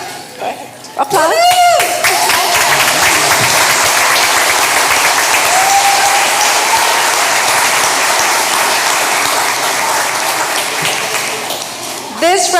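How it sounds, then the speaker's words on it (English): Audience at a school board meeting applauding a band director's hall of fame honor, steady loud clapping that swells and holds for several seconds, with voices underneath. "applause."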